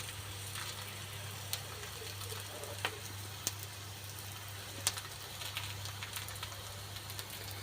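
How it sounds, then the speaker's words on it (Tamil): Wheat and ragi flour adai with drumstick leaves frying in oil on a pan, a quiet steady sizzle with scattered light crackles and pops. "எண்ணெய் கொஞ்சம் நல்லா சேர்த்தே போட்டு நல்லா வேக வைங்க"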